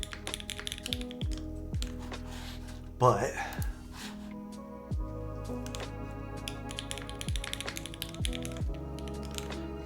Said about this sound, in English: It is a really nice sounding keyboard.